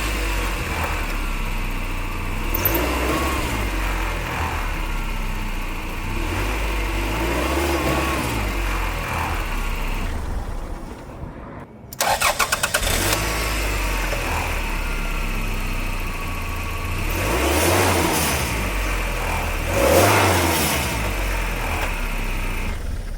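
A 1992 Toyota engine with a failed rear engine mount, revved in short bursts during a torque test; a steady close idle rises into two or three surges, with a brief near-silent gap partway through.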